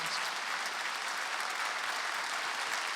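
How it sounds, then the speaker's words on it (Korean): A church congregation at a Wednesday worship service at Jesus Center Church applauds God, producing a steady, dense wash of clapping that holds at an even level for the full three seconds, moderately loud, with no voice over it. "하나님께 박수 크게 한번 쳐보세요"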